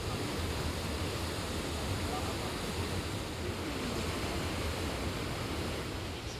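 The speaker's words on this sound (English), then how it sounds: "So I'm just coming up on my first waterfall in Iceland right now." Iceland's Gullfoss waterfall roars as a constant, broad rushing wash with deep rumble, heard from nearby, unchanging and steady with no clear talk over it.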